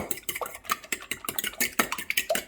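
A fork whisks eggs and milk in a bowl in a home kitchen, a quick run of close, bright metallic clicks and scrapes against the dish in an uneven, steady rhythm with no voices.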